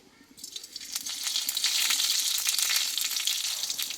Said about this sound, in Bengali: দেখো এখানে কিন্তু ফোড়নটা ভাজা হয়ে গেছে